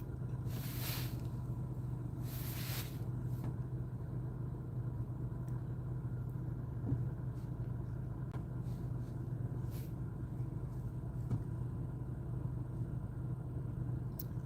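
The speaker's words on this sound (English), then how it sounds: "This car is a Chevy Malibu, and it's about 11 years old." An 11-year-old Chevy Malibu driving through the Bronx after the first snow, a steady low engine and road rumble heard from inside the cabin, with a couple of faint bursts of noise near the start.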